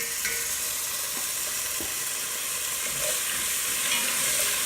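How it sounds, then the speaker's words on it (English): Vegetables caramelizing in a hot pan for braised short ribs, stirred continuously, producing a dense, steady close-up sizzle with soft scraping from the stirring and no voices. "I have to stir it because I want my vegetable to have a nice caramelization."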